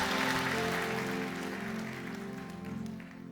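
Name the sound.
applause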